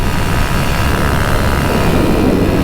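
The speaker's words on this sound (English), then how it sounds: "until I come along with my paramotor" A paramotor flies over a quiet Thai town near mountains and hills, its engine and propeller making a loud, steady, broadband drone that holds level throughout with no talking.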